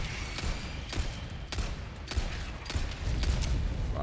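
Repeated gunshots in Resident Evil 4 Separate Ways remake, a handful of sharp cracks spaced irregularly over a dense rumbling game background, moderately loud with no talk.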